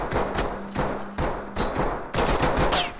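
Rapid bursts of automatic gunfire from the tactical shooter game Ready or Not, several loud volleys separated by brief gaps, with sharp repeated cracks close by.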